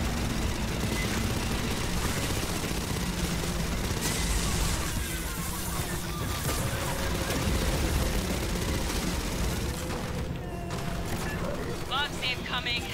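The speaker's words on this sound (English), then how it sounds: "Gunfire must have drawn them." Dense gunfire and explosions rattle on continuously amid battle noise, with voices shouting and talking over the chaos, in the video game Aliens: Fireteam Elite.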